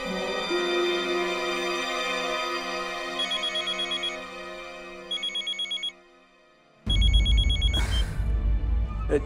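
A telephone rings in repeated bursts of an electronic bell tone over quiet background music in an Indian household setting, then a louder burst of other sound follows.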